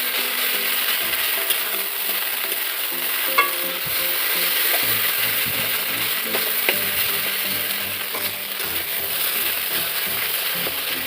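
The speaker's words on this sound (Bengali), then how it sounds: "পেঁয়াজ আর রসুনটা ভালো করে ভাজা হয়ে গেলাম, এর মধ্যে চাউমিনটা ছেড়ে দেবো।" Maggi noodles frying in a pan with onion and garlic, a steady close sizzle with repeated scraping and stirring strokes throughout, no talking.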